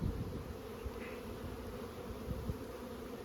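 Honey bees droning steadily around an open hive after a formic acid mite treatment, a dense low hum filling the whole stretch with a few soft knocks and no voices.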